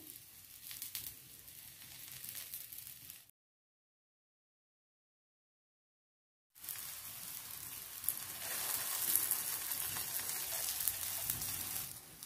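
An aloo gobi pyaz paratha cooks on a griddle with ghee, giving a soft crackling sizzle that cuts to silence for a few seconds, then returns louder and hissier.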